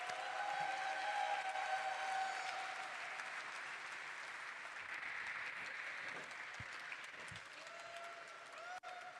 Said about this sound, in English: everyone, with a huge round of applause